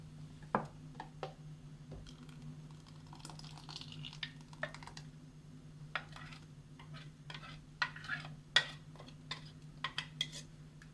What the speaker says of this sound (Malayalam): ഇനി ഇതിലേക്ക് അരച്ച് വെച്ചേക്കണ അരപ്പ് ചേർക്കാം.